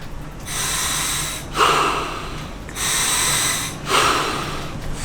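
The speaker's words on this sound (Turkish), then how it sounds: "Düzenli olarak sürekli nefes alıp vereceksiniz." Steady diving-style breathing through a regulator before a shark dive, alternating long hissing inhales and exhales in an even rhythm, close and fairly loud, with no talk.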